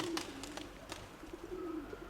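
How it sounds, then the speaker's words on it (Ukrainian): Pigeons cooing in a loft, a few low soft coos repeated with pauses, close and fairly quiet. "парус з іншою голубкою був парований, але все одно це його дитина"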